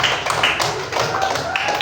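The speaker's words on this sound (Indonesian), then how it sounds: "Oke, tepuk tangan dulu dong." A classroom group claps hands together in a brief burst of dense, close, fairly loud patters with no talk during it.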